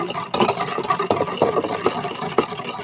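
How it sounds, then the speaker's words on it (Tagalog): A spoon stirs coating syrup in a pot, making close, uneven scrapes and soft knocks in an irregular rhythm, with no talk. "Haluin lang natin siya ng haluin."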